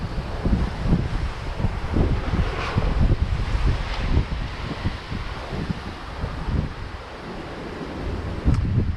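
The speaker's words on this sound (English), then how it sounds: "30-40 mile an hour gusts" Strong wind gusting 30 to 40 mph roars continuously into the microphone with buffeting gusts and rumbling, loud and close, no voices.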